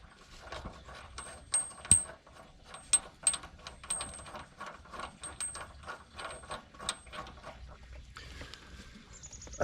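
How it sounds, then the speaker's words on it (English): A torque wrench ratcheting on the rear shock bolt of a 2002 Toyota 4Runner, giving rapid, close clicking pawl bursts in uneven runs with a few sharper clacks in a quiet garage. "I already have the torque wrench set."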